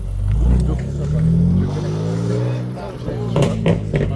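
A car engine revs and rumbles nearby, its exhaust giving a few sharp crackling pops near the end, while people talk over it.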